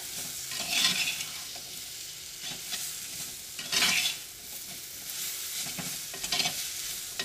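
Kerala egg curry is stirred in a pan, a spoon scraping and sloshing through a low simmering sizzle, with several louder stirring bursts spaced unevenly across the span.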